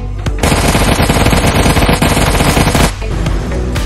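Rapid automatic gunfire from a Soviet-Afghan War gun add-on in Minecraft, a loud dense burst of shots for about two and a half seconds, then a short pause and more firing.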